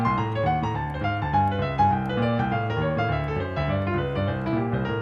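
Jazz piano plays an upper-structure right-hand pattern over a walking bass line, steady harmonic chords and moving low notes continuing for several seconds, clear and close with no talking.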